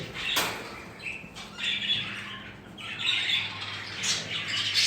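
Young budgerigars squawk and chirp in bursts as a bird is placed into a cage, with wing flutters and a few harsh, close calls over a low background hum.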